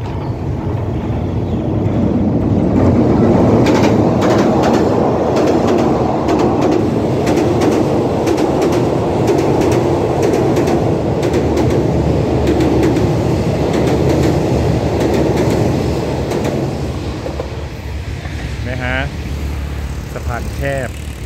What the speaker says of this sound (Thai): เนี่ยรถไฟมาแล้ว